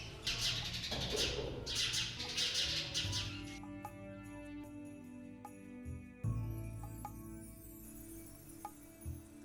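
Small birds chirp and tweet near a roadside rest stop by the Hawara pyramid in Egypt's Fayoum oasis, sharp calls scattered over steady low hum and outdoor ambience, fairly close and clear.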